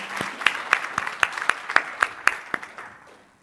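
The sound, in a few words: audience applause welcoming speaker on stage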